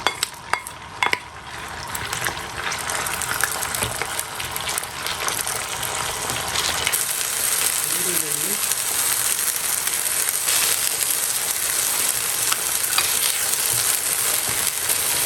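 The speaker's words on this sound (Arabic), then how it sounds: "نديروا الدجاج هنا نشحروه" Chicken pieces fry in hot oil for a stuffed batbout filling, giving a loud, steady, continuous sizzle that holds for the whole stretch with no talking.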